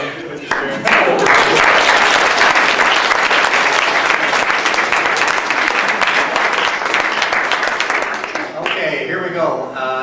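A crowd at a live storytelling show breaks into loud, dense applause that swells and holds for several seconds, then thins out near the end as a voice briefly cuts in.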